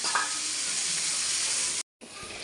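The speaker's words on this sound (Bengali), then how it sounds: "এবার টমেটোটা খুব ভালো করে কষিয়ে নিই" Tomatoes sautéed in hot oil with spices for chicken kosha: a loud, steady sizzle and hiss that cuts out abruptly to silence for a moment before resuming.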